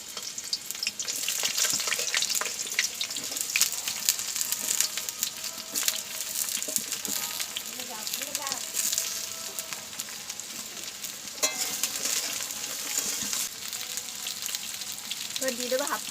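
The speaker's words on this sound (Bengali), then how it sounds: "আমার তেলটা কিন্তু গরম হয়ে গেছে। এখন কিন্তু এই কেটে রাখা পটলগুলো দিয়ে দেবো।" Chopped pointed gourd pieces sizzle steadily in hot oil throughout, a dense continuous frying hiss with occasional stirring clatter, close and fairly loud, no one talking.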